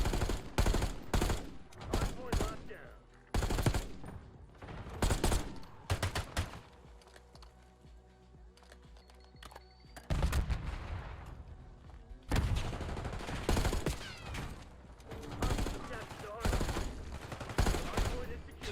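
Rapid bursts of video game gunfire crackle in dense volleys, broken by a quieter stretch in the middle before heavy shooting resumes; talk is faint or absent underneath.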